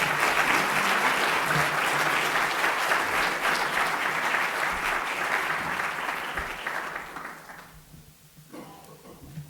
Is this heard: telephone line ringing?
no